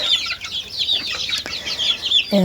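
Chickens, a hen and a rooster, cluck nearby at a rural homestead, with a busy stream of high chirps and clucks and a lower call near the end.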